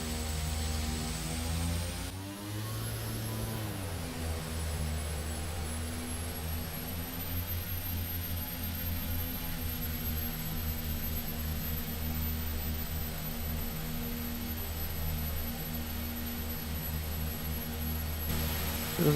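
Simulated aircraft jet engine in X-Plane 11 while taxiing, a steady loud drone with a low hum and high whine that rises briefly in pitch early on, then holds constant without speech.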